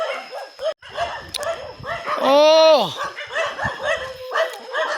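A dog barks loudly outdoors during a search in rural Thailand, one drawn-out, yelping bark rising clearly over steady nearby conversation.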